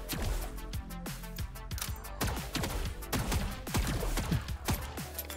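Rapid bursts of gunfire from the co-op survival roguelike Bang Bang Barrage, with dense overlapping shots crackling in an irregular rhythm throughout, loud and close with no talk over them.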